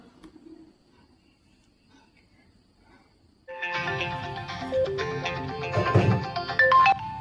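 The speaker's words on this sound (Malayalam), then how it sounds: "നിന്റെ ഫോൺ അടിക്കണം." A mobile phone ringtone starts suddenly after a few seconds of near silence, a loud electronic melody of bright repeating tones that continues to the end.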